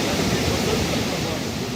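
A steady, dense roar of falling water from the Lobe Waterfalls near Kribi, Cameroon, continues unbroken and fairly close for the brief moment, with no clear speech.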